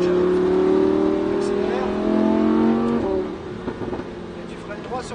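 A sports car, a Ferrari F8 Tributo or Lamborghini Huracán, accelerates on a track. The engine note climbs steadily through one gear change, then drops away to a lower, rougher running sound, with an instructor talking over it.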